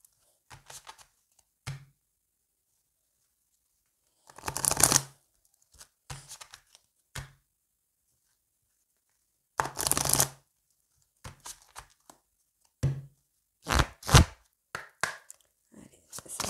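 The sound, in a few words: shuffling Lady Lenormand oracle cards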